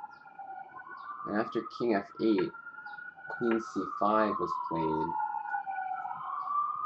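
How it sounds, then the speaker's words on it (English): A wailing emergency siren rises and falls in the background while someone speaks steadily over it. "Apologize for the sirens."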